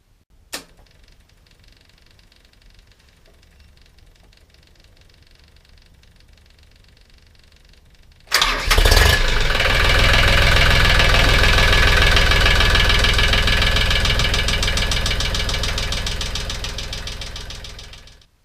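Quiet faint clatter, then a Mahindra MAX28XL tractor engine cranks and roars to life abruptly, settling into a loud, steady knocking idle that slowly eases off.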